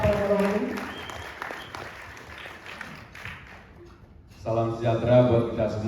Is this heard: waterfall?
no